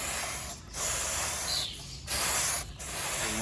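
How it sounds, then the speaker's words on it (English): Three bursts of aerosol chain cleaner sprayed onto a Kawasaki Ninja 650 motorcycle chain, each hiss lasting about a second, separated by brief pauses, close and fairly loud. "you want to take your chain cleaner and then you want to spray it"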